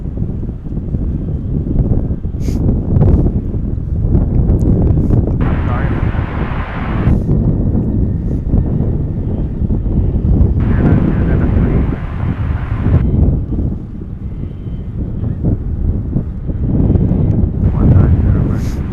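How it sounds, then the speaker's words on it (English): Steady east wind buffets an outdoor microphone at DFW International Airport, a continuous low rumble with gusty swells. Aircraft noise rises and falls in the background, and people talk over it throughout. "the east winds are starting to pick up"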